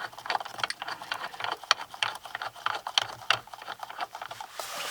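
Screws are driven back into the steering column housing of a 2016 BMW 535i xDrive, giving close rapid ratcheting clicks and small clatters in uneven bursts, with no one talking.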